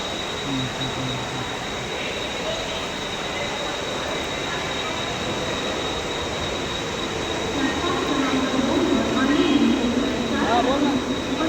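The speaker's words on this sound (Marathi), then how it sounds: "गाईज ट्रेन आली आहे." A train arrives at a Mumbai railway station with a continuous rumbling roll, and wheel squeal and braking noise swell louder toward the end amid a busy, crowded platform with voices.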